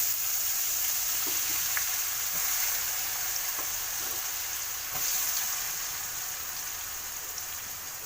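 Finely chopped dried onion frying with turmeric in a pan, a dense steady sizzle like light rain with a few faint stirring clicks, close and gradually easing.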